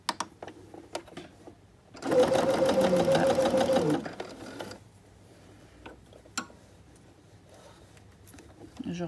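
An electric sewing machine stitches a fabric tube for a scrunchie in one steady two-second burst, followed by quieter handling clicks and rustles of fabric.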